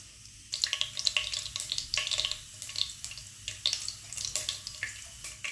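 Mustard seeds crackle and pop in hot coconut oil in a home kitchen, a steady run of sharp, close spluttering bursts with no talk.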